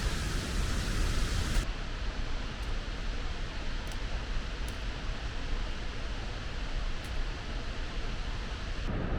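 A waterfall in a Himalayan mountain valley rushes with a steady, dense roar that holds constant from start to finish, with no voices over it.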